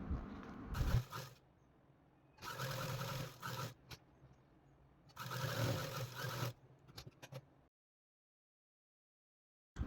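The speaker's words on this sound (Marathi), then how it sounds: "ह्या साईडच्या ज्या दोन बाजू आहेत त्या आपण सिंगल फोल्ड करून वरून शिलाई करून घेणार आहोत" A sewing machine stitches two stacked pieces of fabric together, for a simple cloth tap bag. It runs in three loud bursts of a few seconds each, with quiet pauses between them and then silence.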